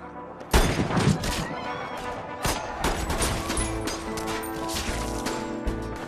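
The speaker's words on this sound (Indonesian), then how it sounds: "Peluru berdesing di mana-mana, namun entah bagaimana, driver selalu berhasil melindungi diri." A shootout from an action film: dense, loud gunfire and crashing impacts burst out after a brief lead-in, then a steady barrage of shots and clatter continues throughout.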